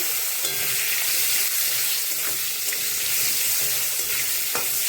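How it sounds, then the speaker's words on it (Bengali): Steady, dense sizzling of cut potatoes frying in hot oil with dried chilli and cumin, close and continuous, with occasional stirring scrapes and no voices. "আলুটা এখন ভালো করে ভেজে নেব।"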